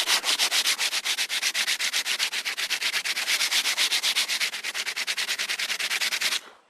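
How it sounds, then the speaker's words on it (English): Hand sanding with sandpaper on a 16-foot catamaran pontoon: a fast, steady series of close, rasping back-and-forth strokes that stops abruptly near the end. "sand a bit of this just to see how it's going to go"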